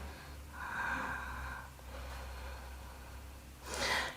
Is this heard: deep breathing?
yes